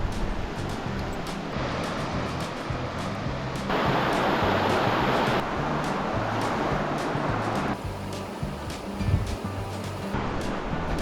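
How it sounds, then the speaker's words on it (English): The South Fork of Bear Creek rushes at a crossing on a gravel ride in the Bitterroot, a continuous broadband roar of fast-running water that swells louder midway, with no talking. "And as you can hear, the water is really running."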